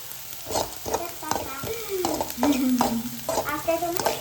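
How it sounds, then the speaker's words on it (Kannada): Finely chopped chillies, onion, ginger and garlic fry in a pan, a soft sizzle punctuated by repeated spatula scrapes and taps in a steady stirring rhythm, close and moderately loud. "ಈ ಥರ ಫುಲ್ ಸಣ್ಣ ಕಟ್ ಮಾಡ್ಕೊಂಡಿರೋ chillies and onion, ginger, garlic ಎಲ್ಲಾನು ಫ್ರೈ ಮಾಡ್ತಾ ಇದ್ದೀನಿ."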